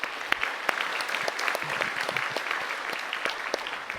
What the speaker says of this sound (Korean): 인사하실 때 박수로 격려해 주시기 바랍니다